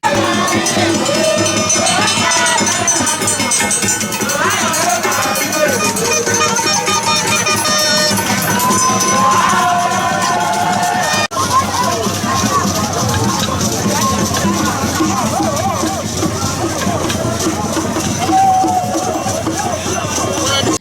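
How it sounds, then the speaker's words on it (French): A large crowd cheers, shouts and chants throughout as it greets a political delegation at an opposition rally in Benin, with a dense, loud babble, whistles and cowbell-like clanks that continue without a pause. "une foule nombreuse a accueilli la délégation"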